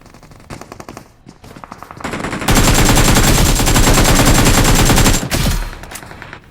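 Rapid automatic gunfire in a battle royale video game: scattered lighter shots, then a loud, dense sustained burst for about three seconds that cuts off abruptly and fades into quieter game ambience.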